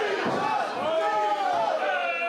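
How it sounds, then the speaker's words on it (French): A wrestling crowd at a JCW show chants and cheers for the wrestler Demon, loud massed voices rising and falling in sustained rhythmic waves that fill the arena. "On peut entendre la foule scanner Demon à tout moment parce que Demon a la foule derrière lui."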